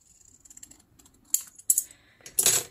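Scissors cutting through newspaper used to make a handmade book cover, a few quiet snips early on followed by three louder, crisp cutting bursts, close and with no talking.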